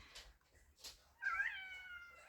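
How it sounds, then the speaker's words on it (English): A house cat outside a window gives a single drawn-out, wavering meow, fairly close and clear, after a couple of faint soft sounds, with quiet room tone around it. "My cat's at the window wanting in."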